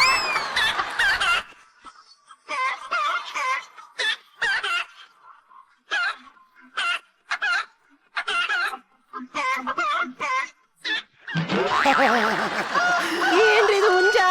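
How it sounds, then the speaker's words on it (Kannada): A rooster clucks in short bursts and then crows loudly and long near the end, the calls close and clear with quiet gaps between them. "ಏನ್ರಿ ಇದು ಹುಂಜ?"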